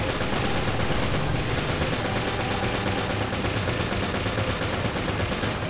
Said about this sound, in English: I have no idea which way to shoot. I'm just shooting.